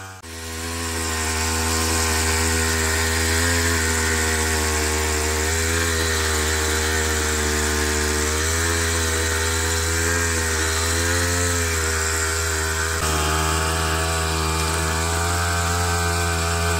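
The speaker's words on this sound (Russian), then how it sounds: "мотокультиватор с двигателем от триммера, у которого вместо косильного устройства установлена фреза." A homemade motor cultivator powered by a trimmer engine, with a tiller fitted in place of the cutting head, runs steadily and loudly close by, its high buzzing two-stroke drone holding on with slight pitch wavers and no talk.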